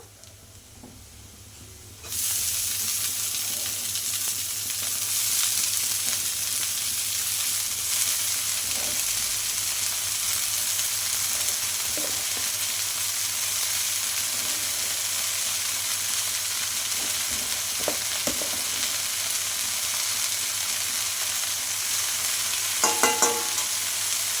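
Onion, garlic and water spinach fry in a hot wok, starting quiet before a loud sizzle erupts and holds steady, with scattered stirring scrapes and a few sharp clinks near the end, and no voices.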